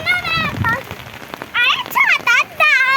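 Rain falls in a soft, constant patter outdoors, under lively voices that talk and call out in short bursts.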